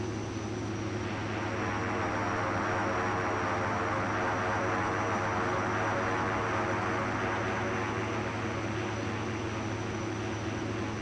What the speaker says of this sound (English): so we just keep taxiing along here, all the way to the end